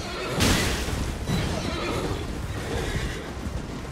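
A horse neighs in the video game Elden Ring, one loud whinny at the start and a weaker one after it, over dense game ambience and a low rumble, with no talk.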